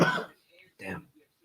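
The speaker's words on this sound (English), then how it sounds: "Start coughing again." Two short, rough coughs from a man, close and moderately loud, separated by a brief pause with faint background noise.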